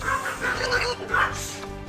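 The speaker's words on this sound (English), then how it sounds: "Between the dogs and the bird." Dogs yip and whimper in several short high-pitched bursts, close and moderately loud, mixed with background game audio and a voice talking.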